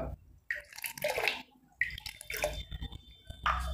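Liquid ammonia is poured into a container of water while preparing a wash for coloured clothes. Short splashy pours and drips come in three separate bursts, close and fairly quiet, with no talk.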